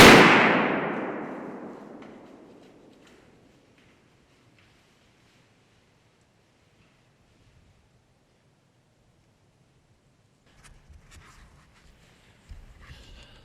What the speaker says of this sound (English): I just shot a pretty good buck